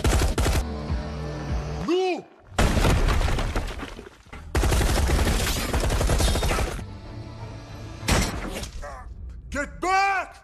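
Dense bursts of film battle gunfire, rapid volleys and single shots with thuds, loud and close, broken by short pauses and a brief shouted voice.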